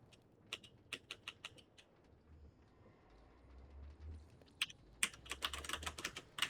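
Quick bursts of computer keyboard typing, a rapid run of clicks, a quiet pause with a low rumble, then another burst of keystrokes, all close and clear, with no voices.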